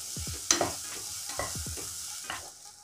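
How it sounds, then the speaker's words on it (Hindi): Carrots frying in a pan over medium heat, a soft steady sizzle broken by several close scraping stirs of a utensil against the pan, with no speech. "अब इसको हम 1 मिनट फ्राई कर लेंगे।"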